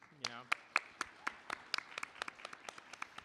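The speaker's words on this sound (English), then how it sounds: "give yourselves a round of applause" Audience applause at a convention panel during an anime screening and Q&A event, sharp claps in a steady patter from a crowd, preceded by a brief voice at the start.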